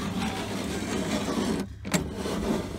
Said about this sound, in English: So now the window's working for now.